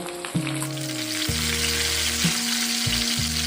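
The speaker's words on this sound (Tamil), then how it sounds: "மீன் ரெண்டு பக்கமும் நல்லா பொரிஞ்சிருச்சு" Ghee-fried fish with curry leaves, a loud, continuous sizzle of hot oil, close up, with steady tonal hums from nearby equipment shifting underneath and no voices.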